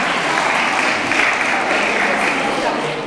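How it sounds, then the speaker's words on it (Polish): A burst of audience applause at a village festival charity auction fills the room, dense and sustained clapping from many hands at close range, fading slightly at the end. "Wielkie brawa dla pana posła"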